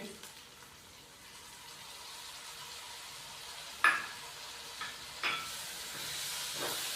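Tomatoes, chopped green chillies and yogurt are stirred into chicken frying in a pan, making a soft, low hiss and sizzle. A few sharp clinks of utensil on pan cut through, and the sizzle grows louder toward the end.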